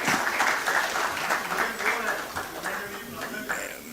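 Steady applause from a crowd fills the whole stretch, dense and even, with a voice faintly mixed in.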